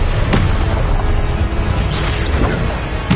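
Heavy spell impacts from the Hogwarts Legacy video game on hard difficulty: dense, booming crashes and bursts that follow one another steadily, loud and close throughout.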